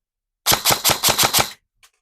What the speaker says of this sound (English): I'm just going to fire 5 rounds rapid, 5 times obviously, just to give it a feel of it